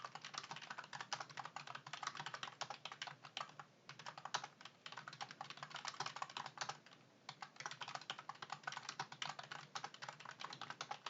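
Rapid, close typing on a computer keyboard while entering spreadsheet data, a dense stream of clicking keystrokes with a few brief pauses and no talk.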